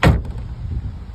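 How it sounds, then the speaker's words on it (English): A 2015 Chevrolet Suburban tailgate opening, heard as one sharp, loud latch thump at the start followed by a low rumbling mechanical hum as the gate rises, with no talking. "or you can open the whole tailgate"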